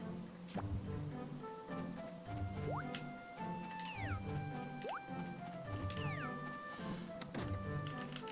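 Cat meows in the Harvest Goddess video game as the pet is picked up, several short rising and falling cries over steady game music, fairly close and clear.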